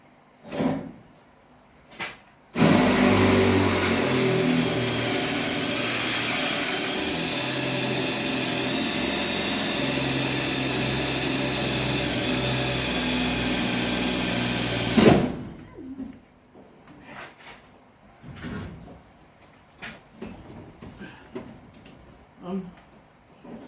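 A power drill whirs loudly and continuously for about twelve seconds drilling into the rusty metal floor pan of a 1963 International Scout, preceded and followed by clunks, knocks and brief handling noises.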